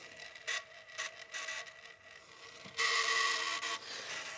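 Clothes dryer motor with a worn bearing spinning on the bench, a mechanical ratcheting rasp that pulses in bursts then turns louder and rougher for the final second and a half, close and alone.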